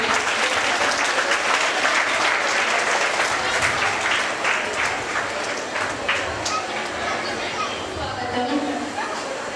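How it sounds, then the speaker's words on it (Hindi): Loud, sustained applause from a crowd welcoming guest Gopal Shetty at a free notebook distribution event by a charitable trust, dense clapping holding steady throughout with some background chatter. "जोरदार तालियों से गोपाल शेट्टी जी का अभिवादन करते हुए उनका स्वागत करिए"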